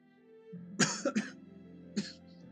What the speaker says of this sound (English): I'm gonna be trying not to cough tonight.